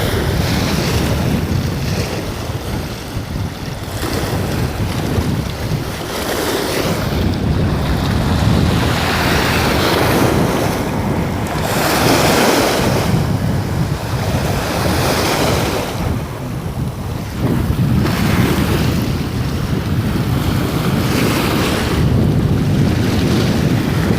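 Sea waves roll against a rock breakwater along the Bang Pu seaside road in Samut Prakan, a loud, steady roar with rhythmic surges and strong wind buffeting the microphone, no voices.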